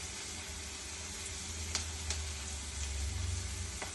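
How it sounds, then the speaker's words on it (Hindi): Onions frying in a hot pan for chola masala, a steady sizzle with constant bright crackle and a few sharper pops, and no one speaking. "प्याज भून रहा है"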